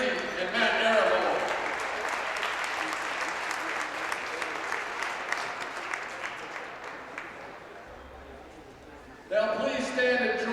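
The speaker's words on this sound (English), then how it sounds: "let's give a round of applause to our officials, Mike Maloney, Matt Reese, and Matt Arabo" Crowd in a high school basketball gym applauding the game officials before tip-off, a sustained burst of clapping that gradually fades, with a voice over the public address system returning at the end.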